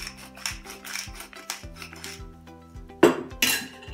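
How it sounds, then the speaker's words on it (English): A marinade of mirin cooking wine, coconut sugar and pepper being stirred in a bowl, with repeated soft scraping and clinking of a utensil against the dish, ending in a couple of sharper knocks. "Then I just mix it."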